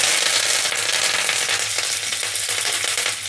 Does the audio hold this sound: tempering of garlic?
yes